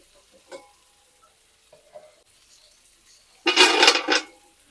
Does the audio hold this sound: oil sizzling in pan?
yes